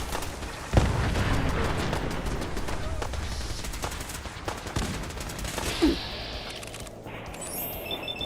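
Gunfire in Fallout 4 comes as rapid bursts of shots and a few heavy booms, loud and close, with a sharp blast near the start and more firing afterward.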